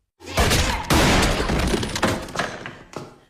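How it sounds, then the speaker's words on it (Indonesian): Loud bursts of gunfire and impacts in a tense film shootout between two men, dense overlapping blasts filling the clip with a brief drop before a final hit. "berujung saling tembak antara Duncan dan pria yang mengadopsi anak Beth"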